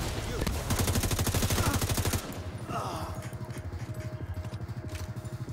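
Rapid automatic gunfire in The Division 2 crackles loudly for about two seconds, then gives way to quieter, scattered shots and a faint mechanical rattle in the background.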